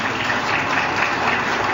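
Applause from a crowd at a political party event announcing a regional election candidacy, a dense, steady wash of clapping that holds at even loudness throughout.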